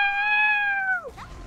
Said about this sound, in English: Why does the princess sound like a fucking cat?